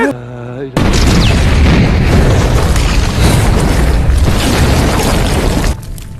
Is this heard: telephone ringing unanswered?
no